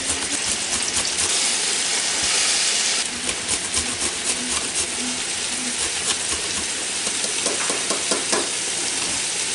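Carrots, cabbage and onions frying in a pan and stirred often, a steady sizzling hiss broken by repeated scraping and stirring strokes, close and fairly loud with no talking.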